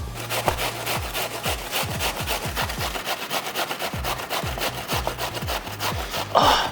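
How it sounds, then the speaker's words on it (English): Mooli radish being grated for kofta makes rapid, rhythmic rasping strokes, close and steady, with one stroke after another. "So the idea is that you grate it and squeeze as much of moisture that you have to do."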